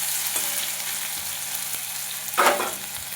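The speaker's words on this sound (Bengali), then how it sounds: "আলুগুলো একটু ভাজা ভাজা হয়ে গেলে এর মধ্যে লাউটা দিয়ে দেবো।" Potatoes fry in a pan with a soft steady sizzle, fairly quiet and close, with a brief louder hiss or stir near the end and no voices.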